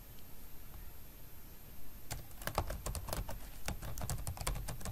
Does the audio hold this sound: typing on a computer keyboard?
yes